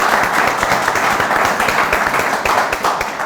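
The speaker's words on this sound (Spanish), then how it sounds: "Un aplauso para ellos" Audience applause at a university gathering, a full, steady wash of clapping from a crowd, loud and continuous for the whole stretch with no talk over it.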